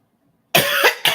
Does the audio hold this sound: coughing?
yes